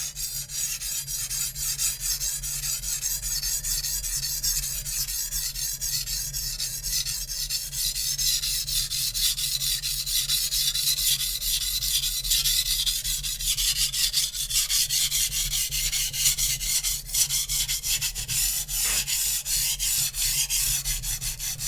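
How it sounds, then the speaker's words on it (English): Steady, continuous gritty rasping as the spine of a Zwilling Pro chef's knife is ground back and forth on a sharpening stone, close and loud with no talking. "you guys heard me grind the spine of the knife"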